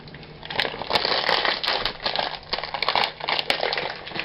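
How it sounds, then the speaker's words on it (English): A hammer with a Dixie cup taped to its end cracks peppermint candies inside a plastic bag, giving a close run of sharp crunching taps mixed with crinkling plastic, irregular and continuous throughout. "I have a hammer here, and I took a plastic rubber band, and I put a Dixie cup on the end of it, and then I put it in a plastic bag, and I'm going to be breaking some peppermints"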